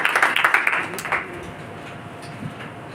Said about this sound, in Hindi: हाँ लालच का, ठीक है, ताली बजाएंगे।